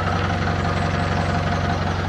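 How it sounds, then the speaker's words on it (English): A narrowboat diesel engine idles steadily at close range on a canal being restored, a continuous low knocking chug with no speech over it. "Listen to the engine, make sure I can't hear any filters spewing out fuel or oil or something."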